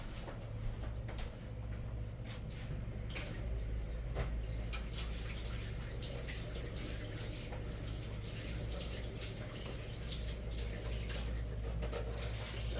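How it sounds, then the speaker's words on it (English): Tap water runs steadily into a kitchen sink while hands are washed, a continuous close splashing hiss lasting throughout with no talking. "let me wash my hands"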